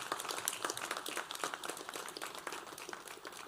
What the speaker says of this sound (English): I thought that deserved a round of applause.